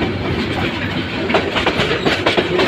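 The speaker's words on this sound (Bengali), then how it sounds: "এই যে ট্রেনটি বাঁক নিয়ে ভৈরব বাজার জংশনের আউটার সিগন্যাল ক্রস করে যাচ্ছে।" The Kalni Express, Dhaka to Sylhet, rounds a curve past the Bhairab Bazar junction outer signal, its wheels clattering in a quickening clickety-clack over a loud rumble close at hand.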